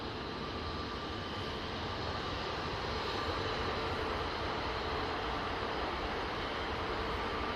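An airliner touches down at Manchester Airport with gentle reverse thrust, a steady broad engine roar that holds level from start to finish.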